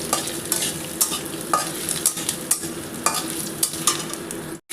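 Ginger paste hits hot oil in a wok with whole spices (dried chilli, bay leaf, cloves, cardamom, cumin), giving a steady close sizzle broken by frequent scraping stir strokes, ending abruptly.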